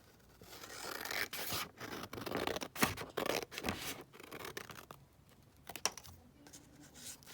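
Scissors trimming around a glued fabric slant pocket, several close, uneven snips and papery rustles in short bursts, quiet in between, with no voices.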